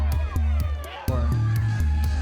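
Crowd at the end of a kickball game cheering and shouting together, a dense close roar of voices with whoops and yells running throughout.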